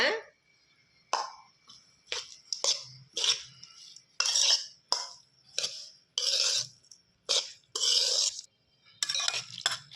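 Rice mixed with tamarind juice stirred by hand in a pot, a run of close, short scraping and rustling strokes at a quick, uneven rhythm, each burst separated by brief pauses.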